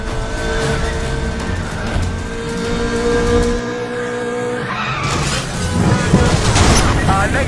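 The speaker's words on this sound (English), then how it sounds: "got an M3 going way over the limit" A BMW M3 street racer engine in the racing game Need for Speed: The Run roars loudly and steadily at high speed, mixed with screeching tire skids and a few heavy thumps.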